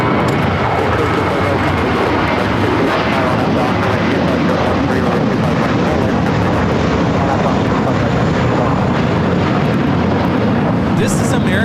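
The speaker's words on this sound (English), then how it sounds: "This is American Airlines Flight 4 taking off to JFK on the A321." An American Airlines Airbus A321 jet takes off at LAX, a loud, continuous, broadband engine roar that fills the whole stretch without a break.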